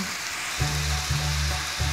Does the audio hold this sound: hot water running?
no